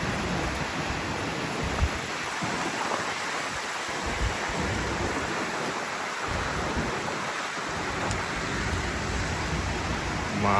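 Typhoon Kong-rey in Taiwan drives strong wind and rain in a steady, loud rushing roar that buffets the microphone, continuous and unbroken throughout.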